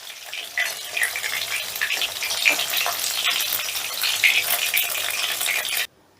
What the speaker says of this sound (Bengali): এবারে এই পিঠটাকেও হালকা করে ভেজে নেব।